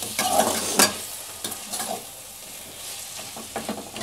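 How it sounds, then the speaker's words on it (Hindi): Fried suran (elephant foot yam) pieces are stirred into spice masala in a pan, giving a soft continuous sizzle broken by scraping stirs of a spoon, close and alone. "मैं इसमें ये जिमीकंद जो फ्राई करके रखी हूँ इसको डाल दूंगी, इसके सब मसाला के साथ इसको 2 मिनट तक भून लूँगी"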